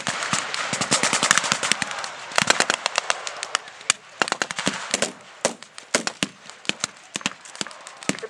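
Rapid volleys of gunfire in a World War II battle, with sharp cracks in dense bursts at first, then more scattered single shots and short bursts, moderately loud with a reverberant outdoor quality.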